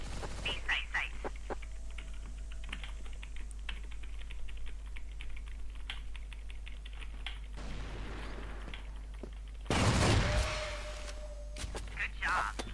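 Bursts of gunfire in a first-person shooter match, a heavy crack around the tenth second amid steady game noise, with players calling out to each other over the action.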